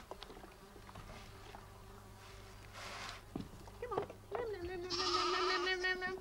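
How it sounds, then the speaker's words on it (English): Orphan lambs on a farm give a couple of thin, close bleats over a buzz of flies and insects. "The poor little lamb."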